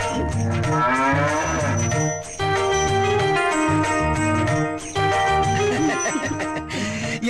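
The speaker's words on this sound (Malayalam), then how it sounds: "പശുവിന് എന്ത് പറ്റി?" A cow lets out long, loud, close moos, one drawn-out call after another with brief gaps between.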